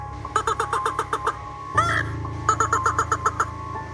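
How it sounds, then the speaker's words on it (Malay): Sinta birds leaving a jackfruit treetop toward the paddy fields at the village edge give harsh, rapid caw-like calls in quick bursts, with a short louder squawk between the series. "Bunyi macam unggas terbang dari pucuk pokok nangka menghala ke arah bendang di pinggir kampung."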